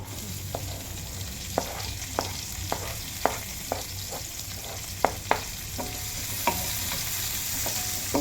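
Onion with curry leaves fries loudly in a pan, a dense steady sizzle up close punctuated by repeated sharp spatula taps and scrapes against the metal as it is stirred.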